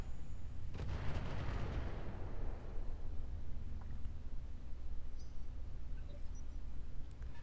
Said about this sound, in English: He's gonna take a barrage.